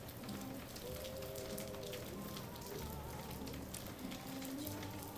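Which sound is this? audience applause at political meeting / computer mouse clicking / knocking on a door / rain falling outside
rain falling outside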